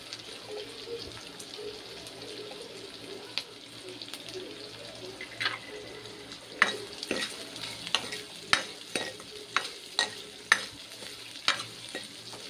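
Onions stirred and frying in a pan while cooking a home Tamil-style lunch of sundakkai vathal kuzhambu, a steady sizzle under repeated sharp scrapes and clinks of the spoon against the pan in the second half.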